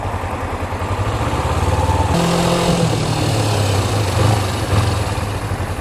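Motorcycle engine running steadily while riding to deliver a pizza, a loud continuous drone with a rising harmonic pitch change partway through as the bike accelerates or shifts, no talking.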